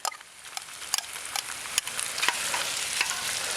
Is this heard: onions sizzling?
yes